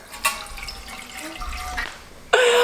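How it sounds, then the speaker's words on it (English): Water running into a cooking pot from a tap in a home kitchen, a faint, uneven splashing stream with a few drips, then a louder gush near the end. "In a pot, you're gonna add some water."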